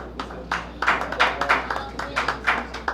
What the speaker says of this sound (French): Sous un tonnerre d'applaudissements, mesdames, messieurs.